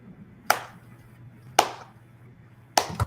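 Three sharp, separate hand claps spaced about a second apart, fairly loud against a quiet low hum, with no talking.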